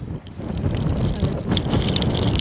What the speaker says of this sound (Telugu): పిచ్చ గాలి అయితే ఉంది.